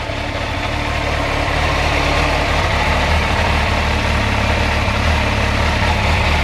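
A standard motorbike engine idles smoothly at 1,000 RPM, a loud, close, steady low rumble that holds even throughout with no voices.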